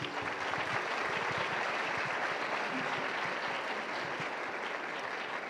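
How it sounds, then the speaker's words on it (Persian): An audience at a ceremony honoring a television series claps steadily and evenly throughout, a dense, unbroken wash of applause with no voices rising above it. "تشویقشون کنیم."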